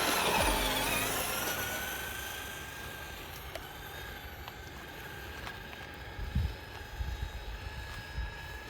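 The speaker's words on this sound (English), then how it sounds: "let's roast the tires again" A Traxxas Slash 2WD XL-5 RC truck on a 2S LiPo battery spins its tires in leaves and grass. A loud electric motor whine fades away, then quieter crunching and short revs follow.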